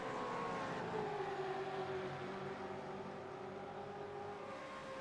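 Gen 3 V8 Supercars, including a Camaro, race at Phillip Island, heard as a steady, faint engine drone whose pitch slowly falls as the cars pass at a distance.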